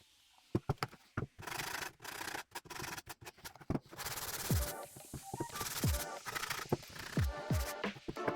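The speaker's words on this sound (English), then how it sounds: "Now we're sanding to prevent any sharp edges and also for flattening of the back panel." Sandpaper rubs and scratches against the wooden back panel of a cat scratching post in quick, uneven strokes with short pauses, close up and fairly quiet, without any talking.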